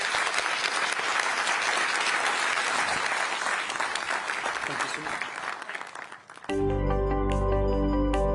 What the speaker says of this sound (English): let's give a big round of applause to General Cavalli